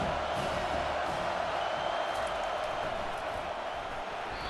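A stadium crowd in an American football video game roars in a continuous, loud wash of cheering that holds steady throughout.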